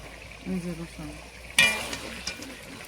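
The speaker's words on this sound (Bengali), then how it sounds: "রসুনগুলো কষানো হয়ে যাচ্ছে মাংসের সঙ্গে সঙ্গে।" Garlic and meat frying together in a pan in a home kitchen, with a sudden loud burst of sizzle followed by steady frying and stirring. A voice murmurs briefly just before the sizzle.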